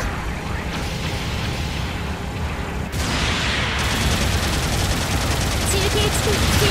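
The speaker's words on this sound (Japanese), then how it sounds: "後方部隊から支援砲撃が来ます。" Supporting artillery bombardment in the Gundam Battle Operation 2 video game: a dense, continuous roar of rapid blasts and gunfire that jumps louder partway through and keeps rumbling without pause.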